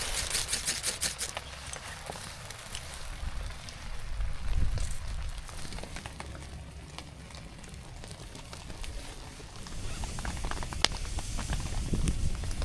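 Steady cold spring rain patters on surfaces at a campsite with scattered drips and taps, fairly close and continuous, with a few louder knocks near the end.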